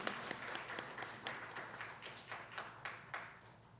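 A church congregation applauding during a deaconesses' dedication service, faint, distant clapping with a loose, uneven rhythm.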